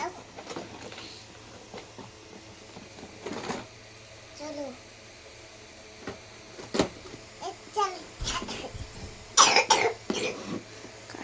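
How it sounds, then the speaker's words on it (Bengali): A child coughs in a few short, sharp bursts in an indoor room, with faint background noise and bits of quiet talk between them. "কাশি হয়েছে।"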